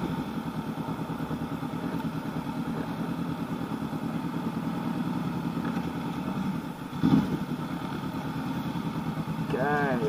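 A 2019 Honda CB500X motorcycle is ridden through Shanghai, its engine a continuous mid-pitched drone with a brief louder surge partway and a faint voice near the end.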